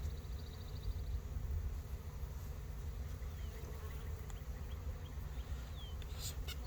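Bees swarm around an open beehive in a steady, faint, dense buzz that continues throughout, with no speech and an occasional small click near the end.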